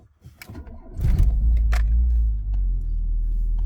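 A Tofaş Şahin car engine is started on a cold morning: a brief crank and rustle, then the motor catches at once and settles into a loud, steady low rumble close by.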